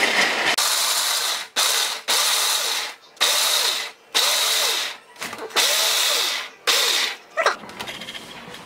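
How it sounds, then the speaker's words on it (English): An electric grinder pulses through walnuts and a teaspoon of cinnamon in loud, close, whirring bursts of roughly a second each, separated by short gaps, with the rattle of the nuts inside. "I put the walnuts in here with a teaspoon of cinnamon, and I'm gonna grind."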